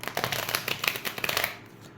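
Oracle cards being shuffled by hand, a quick run of soft riffling flicks and papery slaps over about a second and a half, close and fairly quiet, ending in a brief pause.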